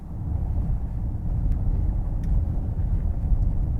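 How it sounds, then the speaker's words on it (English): Low, steady cabin rumble inside a BMW i5 electric car driving over a cobbled, bumpy road. The sound is a continuous muffled drone with faint small knocks and no speech. "Okay, cobbled bumpy road bit here in the i5."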